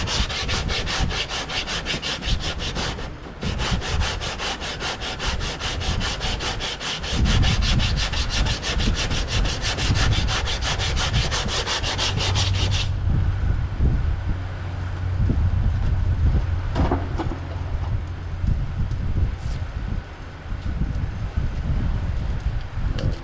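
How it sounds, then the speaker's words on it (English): Steady, continuous scraping of a 3M rubber sanding block rubbed back and forth over body filler on car bodywork, loud and close, with no talking. "We get this little smaller sanding block, good old 3M rubber block."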